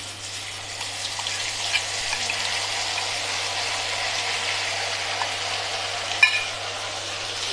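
Mustard paste, green chilli paste and turmeric fry in oil with a steady, moderate sizzle and a low background hum, broken by a single sharp clink late on.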